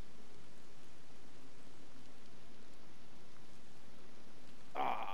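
Steady hiss of rain falling in a video game, an even, soft wash of noise throughout with no voices, ending in a brief brighter burst at the very end.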